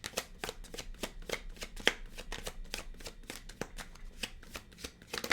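Tarot cards riffle and slap in a rapid, steady shuffle, a string of crisp flicks up close at low volume, with no voices over them.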